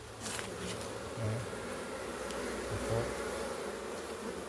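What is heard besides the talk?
karinodiyan bees swarming at the hive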